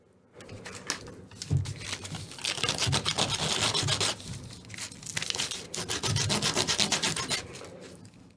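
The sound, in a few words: hand smoothing a puppet part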